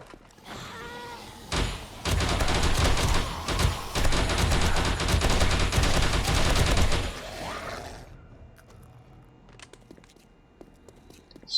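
Sustained automatic gunfire roars for about five seconds in the zombie survival game 7 Days To Die inside an infested tower, a dense loud rattling burst, followed by quieter game ambience and scattered thuds.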